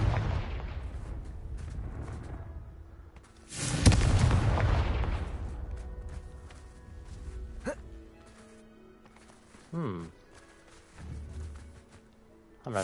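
A Confringo blasting spell detonates in Hogwarts Legacy, a sudden loud boom with a broad rumbling burst that decays over a couple of seconds, followed by scattered smaller impacts and game effects.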